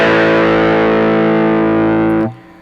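A NOTADÜMBLË overdrive pedal sustains a single thick, distorted guitar chord for just over two seconds, loud and buzzing, before it is cut off sharply into faint residual noise.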